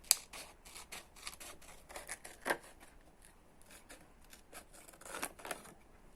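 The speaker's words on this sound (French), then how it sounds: "On l'ouvre et on va couper dans la pliure." Scissors snip through folded fabric in a quick run of short, crisp cuts, close and fairly quiet, with small pauses and a few sharper clips and no talking.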